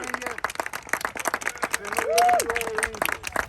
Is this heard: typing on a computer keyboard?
no